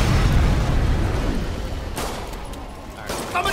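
Video game gunfire booms out in a heavy blast that rolls and fades, followed by two sharper cracking shots a second apart, loud and close.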